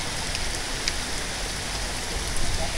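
Heavy rain falling steadily in a village lane in Hisar, Haryana, as the street floods: a loud, dense, continuous hiss of drops on surfaces with no voices.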